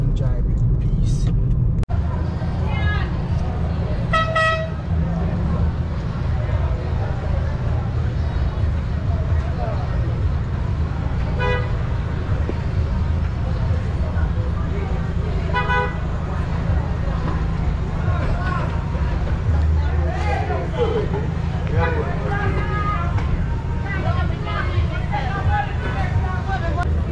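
A car drives along a road on a farm trip, with a steady low engine and road rumble throughout and bits of background talk over it.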